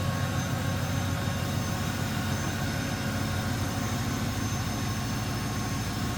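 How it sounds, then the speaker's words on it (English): A 1996 Chevrolet Impala SS with its 5.7-liter, 350-cubic-inch LT1 V8 idles steadily up close, making a continuous low rumble with an even, throbbing pulse and no voices. "350 cubic inches, LT1 power. Sounds and looks as it should."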